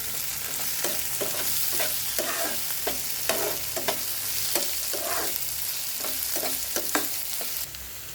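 Chopped onions and tomato sizzle steadily in a pan for an onion curry, with repeated scraping stirs of a spoon at an even pace, close and clear with no talking.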